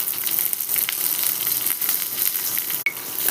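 Peanuts and green chillies frying in hot oil, a dense, steady sizzle with faint stirring clicks and one sharp knock near the end, close and loud, with no talking.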